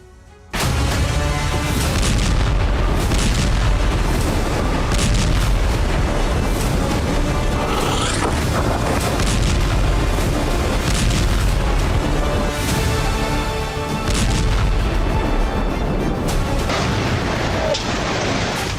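Heavy explosions and booming blasts from an attack on a school in Gaza, loud and continuous with overlapping rumbles and sharp bursts, under a voice speaking throughout.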